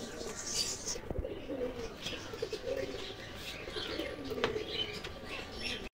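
Faint cooing from many pigeons crowded together in a somewhat dirty home loft, low murmuring calls with a few chirps and a brief wing flutter, under quiet background noise.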